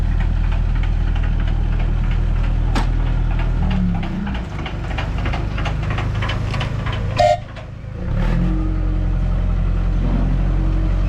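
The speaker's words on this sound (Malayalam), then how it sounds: "ഈ ചെറിയ എഞ്ചിനാണ് കേട്ടോ നമ്മളെ വലിച്ചുകൊണ്ട് വന്നത്" A small Hayling Railway locomotive engine runs close by with a steady, heavy knocking chug that holds throughout, briefly dropping around the middle before resuming at full strength, with a sharp clank partway through.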